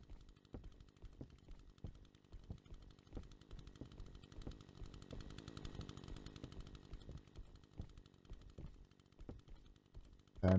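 A chainsaw in the 1986-style horror video game Scary Mr. Chainsaw sputters and revs in a series of sharp, evenly spaced bursts, fairly faint, with no voices over it.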